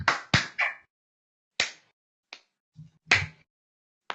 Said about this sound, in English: you gotta give him the condescending golf clap